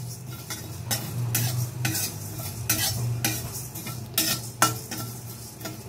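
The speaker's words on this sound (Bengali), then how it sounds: "হালকা করে ভাজতে হবে, তাহলে মশলাটার একটা ভালো গন্ধ বেরোবে" Whole fennel seeds lightly fried in a pan, with a soft, steady sizzle under repeated scraping strokes of a spoon stirring against the metal. Close and fairly quiet, with no talking.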